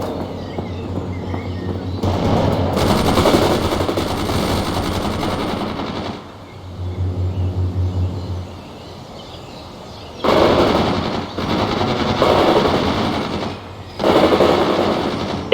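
Gunfire in the real-time strategy game World in Conflict: dense bursts of automatic fire and shots in clusters, loud and near, broken by short lulls and a low engine rumble, with no talk.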